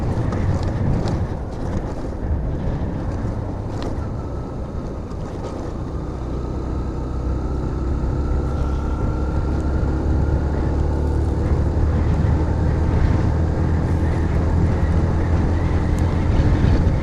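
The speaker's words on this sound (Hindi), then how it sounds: "ये जनाब मेरे राइट साइड पे रेत का पूरा तूफान है।" Steady, roaring sandstorm wind blows across the Tuzgi sand dunes near Taftan, Balochistan. It buffets the microphone loudly and continuously for the whole stretch, with no talking.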